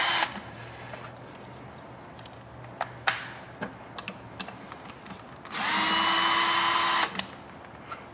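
A 10 millimeter socket on a power tool loosens hose clamps on the intake of a Toyota Highlander throttle body. Light clicks and ticks come first, then a loud, steady whirring burst of the driver for about a second and a half.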